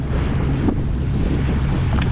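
A fishing vessel on a sea trial runs a single engine, and its low, steady rumble mixes with heavy wind buffeting and waves.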